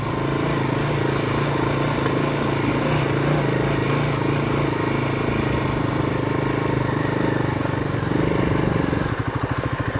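A motorcycle riding through bush, a steady close engine drone mixed with wind rush that holds level throughout and shifts to a rougher, pulsing tone near the end.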